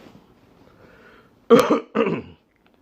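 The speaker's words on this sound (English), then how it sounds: "Sorry, I had to clear my throat." Two short, harsh throat-clearing bursts close to the mic, following a stretch of near silence with a faint low murmur.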